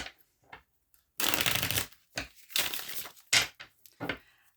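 A tarot deck is shuffled in several quick, crisp bursts of riffling cards, close and fairly loud, separated by short pauses.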